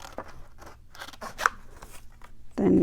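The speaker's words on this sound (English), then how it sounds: "I just cut them with the scissors." Several crisp scissor snips cut through paper at a close distance, spaced irregularly, ending with a louder rustle.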